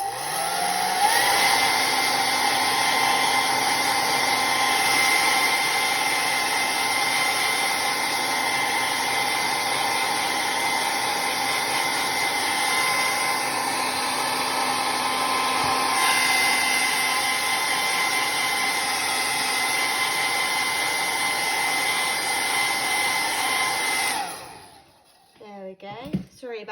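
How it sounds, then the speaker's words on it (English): A hairdryer drying watercolour paint blows as a loud, steady, whooshing drone close by for about 24 seconds, then cuts off into a few quiet clicks and rustles. "I'm just going to quickly dry this with a hairdryer"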